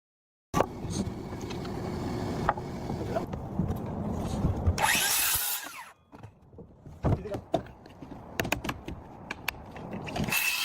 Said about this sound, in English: edges of the roof decking boards are being carefully trimmed with a power saw